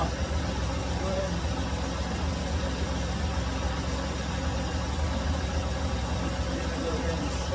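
A 1991 Ford Ranger XLT engine idles steadily in a low, even hum at moderate distance, with no voices over it.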